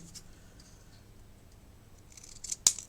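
Scissors snip paper for an envelope journal craft project, with faint light rustling and one crisp close cut near the end.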